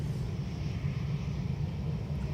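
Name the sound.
Ryanair aircraft taking off from Dublin Airport runway 28 right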